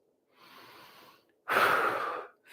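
Two breaths during a fascia stretching session: a soft, faint exhale, then after a pause a louder, forceful breath out through the mouth, close and alone.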